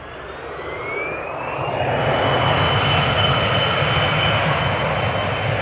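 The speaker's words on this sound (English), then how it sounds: "Embraer 175 going to Toulouse" An Embraer 175 jet departing Schiphol's Polderbaan runway, its engine roar building from a distance to a loud, sustained rumble with a rising whine, heard alone without talk.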